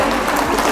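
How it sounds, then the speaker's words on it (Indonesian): A short, dense burst of clapping from a crowd welcoming visiting guests, loud and close. "Tepuk tangan langsung menyambut rombongan Kak Dinda."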